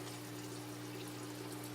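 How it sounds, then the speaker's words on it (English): Water flows steadily down through an aquaponic growing system into a growing bed, a continuous close trickling wash with a low pump hum underneath. "So now the water comes down"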